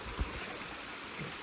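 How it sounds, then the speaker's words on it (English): Water streams steadily over a small waterfall at Pedernales Falls, Texas, a soft continuous rushing wash with no voices. "So we made it to this little waterfall area."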